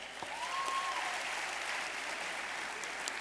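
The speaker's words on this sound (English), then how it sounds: "Give them a round of applause too" Steady applause from an audience at an education awards ceremony, honouring category sponsors, continuous broadband clapping at moderate level with a brief whistle-like tone early on.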